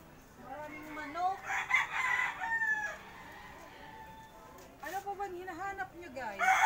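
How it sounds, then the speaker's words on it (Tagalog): A rooster crows nearby, loud and drawn out, with chickens clucking around it and people talking over the birds. "Maraming manok."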